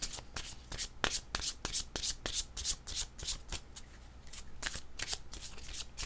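Tarot cards being shuffled by hand, a steady run of crisp riffling bursts and soft flicks close up, fairly quiet and with no talking.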